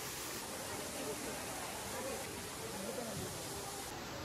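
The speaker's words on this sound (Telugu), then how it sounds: "మీరు ఇక్కడ వాటర్ ఫాల్ని కూడా చూసేయచ్చు." An artificial waterfall at a Kashmir-themed exhibition, heard as a steady broadband rush of falling water, fairly faint and uniform, with a faint murmur of crowd voices in the background.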